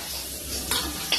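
Food frying in oil in a kadai, a steady close sizzle with two brief scraping stirs of a spatula near the end.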